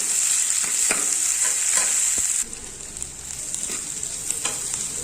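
Onions for dahi pyaz fry in a pan with a steady bright sizzle and occasional stirring scrapes, loud and close, with the sizzle dropping in level midway.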